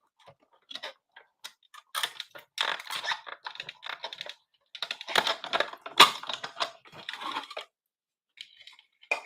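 Scissors snip around a piece of stamped white cardstock, close and crisp, with irregular bursts of short cuts and rustling separated by brief pauses.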